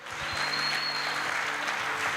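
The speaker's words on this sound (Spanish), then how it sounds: "Denle las fuertes palmas al Señor." Church congregation clapping loudly during a Christian sermon, a brief dense burst of applause from many hands filling the room, with a faint sustained tone running beneath.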